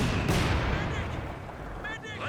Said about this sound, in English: The mortars dropping on this Raketen.